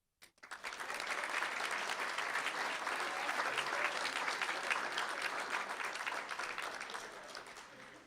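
Students receiving National Speech and Debate Association Academic All-American awards are applauded at a school district board meeting, with clapping that swells quickly, holds as a broad, steady roar and then eases off near the end.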